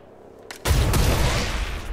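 Gunfire bursts out in the XCOM Chimera Squad video game, a loud, dense volley that starts abruptly after a brief quiet lead-in and keeps rumbling with heavy low-end booms.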